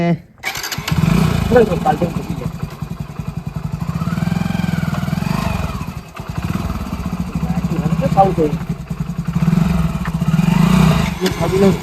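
A motorcycle engine runs with a steady low rumble, briefly dips and then picks up again, beneath people talking in a Gujarati comedy scene about a stolen bike.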